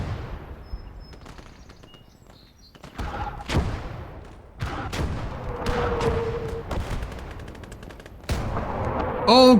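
Artillery and gunfire in a WWII video game set at Villers-Bocage, with bursts of sharp rifle and machine-gun shots, heavy booming blasts at intervals, and a loud, chaotic clatter of gunfire toward the end.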